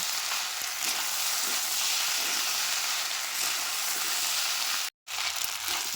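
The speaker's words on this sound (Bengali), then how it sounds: "একসাথে একটু ভাজা ভাজা করে নেব" Steady, loud hiss of chicken pasta sizzling with tomato sauce in a hot pan, close up, with faint stirring scrapes; the sound cuts out briefly near the end before resuming.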